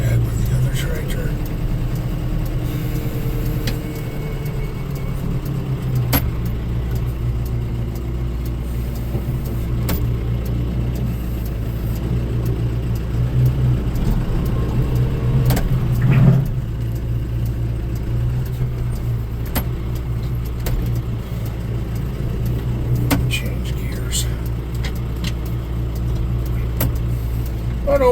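A tractor pulling a Frontier LP1208 grader along a road drones with a steady, close engine rumble that barely changes across the whole stretch, while someone talks over it.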